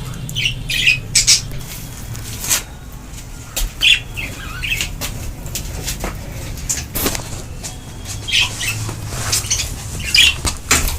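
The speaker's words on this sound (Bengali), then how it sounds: "নতুন কলোনিতে পাখিগুলো উঠছে দেখতে পাচ্ছেন" Pet budgies settle into their new colony cage, giving sharp, scattered squawks and chirps with bursts of fluttering wings and light scrabbling over a low background hum.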